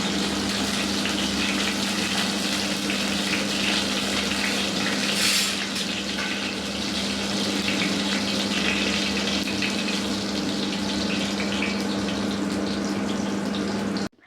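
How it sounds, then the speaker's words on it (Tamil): Fennel seeds sizzle in hot oil in a pan at the start of a South Indian prawn gravy, giving a steady, fairly loud frying hiss that runs throughout without talk. "ஆயில் சூடான உடனே சோம்பை ஆட் பண்ணுங்க. சோம்பு ஆயிலில் பொரிஞ்சதும் செம அரோமா வரும்."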